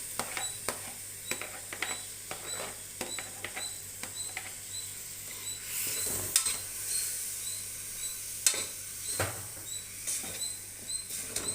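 Chopped tomatoes going into a hot pan for tomato bath, giving a soft sizzle with scattered scraping stir strokes and light clicks of the spoon, fairly quiet and close, with no talking.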